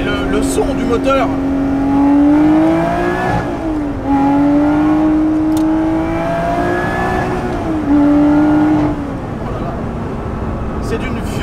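A Lotus Exige 430 Cup engine revs loudly and close by, rising and falling in several pulls with strong, sweeping tones, alone without talk.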